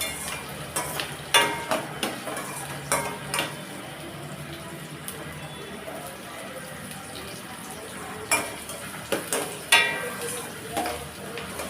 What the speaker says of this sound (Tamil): ரெண்டையும் சேர்த்து நல்லா பொன்னிறமாகிற வரைக்கும் நல்லா வதக்கி விட்டுறலாம்.